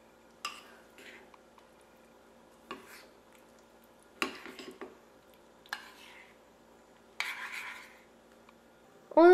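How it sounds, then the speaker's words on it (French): Chocolate chips being mixed into Nutella brownie batter produce intermittent scraping and rubbing strokes of a utensil in a bowl, several separate short bursts with quiet pauses between, close and fairly soft. "on ajoute les copeaux de chocolat. On mélange encore une fois."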